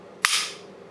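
Glock 29 Gen4 pistol trigger dry-firing with no magazine: one sharp, close metallic click, alone and clearly audible, with a brief bright tail.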